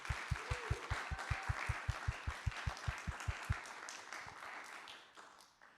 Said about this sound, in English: let's have a round of applause for Judy Isles.